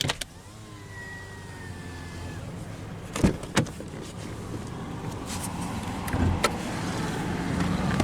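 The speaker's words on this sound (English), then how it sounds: "now we'll roll down the driver's window" The driver's power window of a 2023 Subaru Outback Premium rolls down with a smooth electric motor whine lasting a couple of seconds, followed by a few sharp clunks and faint cabin noise, with no talking.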